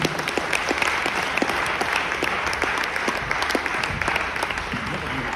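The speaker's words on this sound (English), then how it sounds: "Shall everyone give a round of applause for the Fuel Change Maker Council?" An audience claps steadily for the Fuel Change Maker Council at a climate action presentation, with dense, even applause running throughout at a moderate distance.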